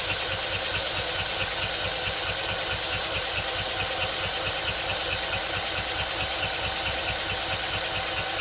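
A 2000-watt iPower inverter generator runs on half choke, its small engine holding a steady, close, loud idle with a rhythmic knocking pulse and faint rattle throughout.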